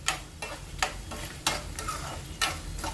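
Mustard seeds sizzle in hot oil for a tempering with chana dal, urad dal, asafoetida and curry leaves, heard close as a continuous frying hiss broken by sharp crackling pops roughly every half second.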